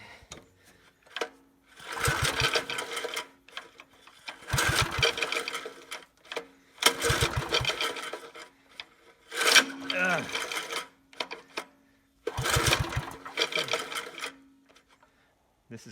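Recoil starter cord on a 1964 Super Farmcrest tiller gets pulled five times in separate bursts, each a rapid whirring rattle lasting about a second with quiet gaps between, close up, with a voice speaking now and then.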